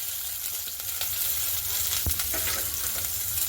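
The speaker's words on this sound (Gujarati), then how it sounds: "તેલ આવી ગયું છે આપણે રાઈ જીરું એડ કરી દઈશું" Mustard and cumin seeds dropped into hot oil for vegetable aloo paratha filling, a steady close sizzle with a sharp crackle burst near the middle, no talking.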